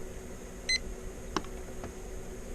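Temperature monitor in an RV giving a few brief electronic beeps while its alarm is set, with one short tone and then a couple of fainter clicks over a low room hum.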